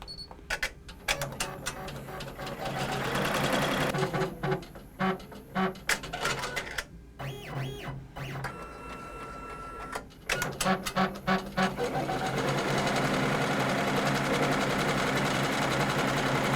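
An embroidery machine stitches a logo border of patch material onto a repurposed garment, a fast rhythmic mechanical chatter of needle strokes broken by short pauses, then running steadily, close and clear with no talk.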